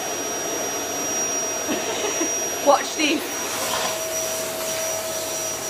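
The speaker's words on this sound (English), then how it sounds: "I've got the old vacuum cleaner thing happening." An old household vacuum cleaner runs steadily at close range, a continuous droning whine throughout, while a person talks over it and a dog moves nearby.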